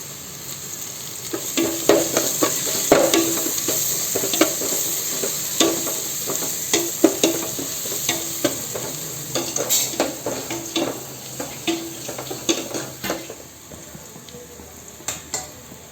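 Curry leaves, crushed ginger and garlic sizzle in a pan for a crab curry, with a steady frying hiss and frequent close scrapes and clinks of a spoon stirring against the pan.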